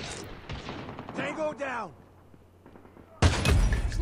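Call of Duty Mobile multiplayer gameplay with a sniper rifle: a sharp shot, a burst of descending game effects, then a loud blast near the end, with a voice talking in between.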